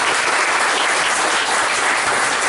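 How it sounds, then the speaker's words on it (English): Audience applause at a Sunday Assembly gathering in Las Vegas, a dense, steady wash of many hands clapping that fills the whole stretch at even loudness with no break. "round of applause for them"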